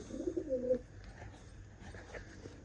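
Pigeon cooing faintly nearby, a short series of soft low coos at the start, then quieter background noise with a few faint chirps.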